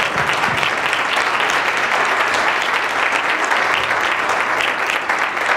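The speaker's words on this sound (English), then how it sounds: "So we owe you a big round of applause." A large audience applauds steadily at a political event in Philadelphia, dense sustained clapping filling the room from start to finish with a brief voice at the very beginning.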